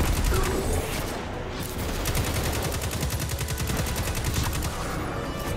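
Enemy gunfire in the Destiny 2 beta opening mission Homecoming: loud, sustained rapid automatic bursts crackle continuously at close range, with a dense rhythmic rattle running throughout.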